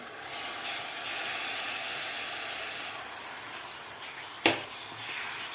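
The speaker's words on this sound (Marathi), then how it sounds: "यामध्ये घालायचा आता आपल्याला मिक्सरमधून काढून घेतलेला मसाला घालायचा आहे" A soft, continuous hiss of ground masala paste sizzling in a hot pan for egg curry, steady throughout, with a brief sharp scrape near the end.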